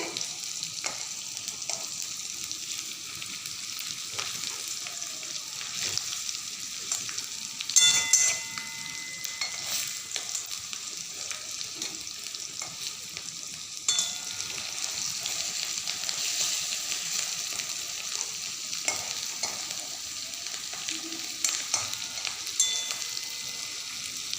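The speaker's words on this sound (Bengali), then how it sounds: "আর একটু ভাজা হবে, আর একটু ভাজা হবে।" Stuffed spiny gourd (kakrol) frying in a pan, a long steady sizzle with occasional crackles and faint clinks, close and even throughout, no talking.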